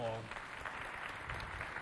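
Audience applause for a jury member at a neighbourhood youth holiday event, a steady wash of clapping following a brief voice at the start.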